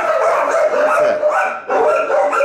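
Dog barking during an obedience training session, a loud, close run of repeated yips and barks with whiny tones, packed nearly continuously with one brief pause.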